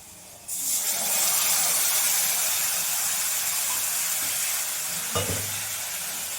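Black cumin (kalo jeera) dropped into hot oil for a Bengali hilsa fish curry with potato and aubergine, giving a loud, steady hiss of sizzling and frying that starts abruptly and holds, with a brief clink of a utensil near the end.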